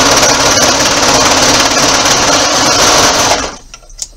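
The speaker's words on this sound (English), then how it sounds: "Now on the serger machine, if you got a serger, great." A serger sewing machine runs fast through fabric for thumb hole cuffs, a loud, close, continuous whirring drone that stops abruptly near the end, leaving quiet room noise.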